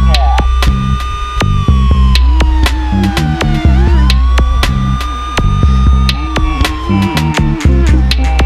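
A police car siren wails loud and close, its tone sweeping slowly up and down over a rhythmic pulsing beat and music.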